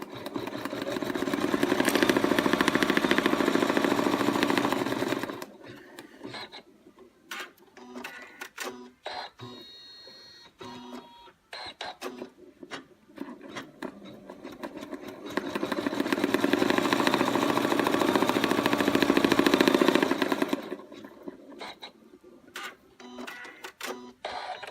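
Sewing machine stitching an outline on Minky fabric, a loud steady mechanical whir running for several seconds, pausing amid quieter handling clicks, then running again at length.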